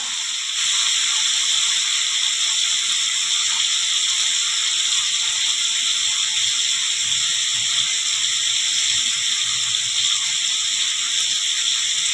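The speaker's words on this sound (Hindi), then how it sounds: "इधर सोयाबीन में फ्राई करने के लिए रख दिए हैं" Soybean chunks fry in a pan, giving a steady, even hiss of sizzling oil that runs unbroken and fairly close, with no talking over it.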